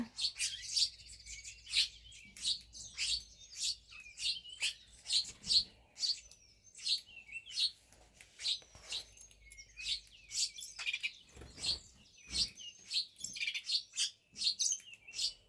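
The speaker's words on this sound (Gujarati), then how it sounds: "આ છે અમારી આફ્રિકાની ચકલીઓ." African sparrows chirp busily and close by, a rapid stream of high tweets in quick bursts with little else around them.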